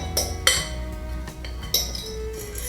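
Metal clinks and clatters from a 9-inch springform pan being handled for a cheesecake, a few sharp taps and knocks close by with quieter rattling between, no talking.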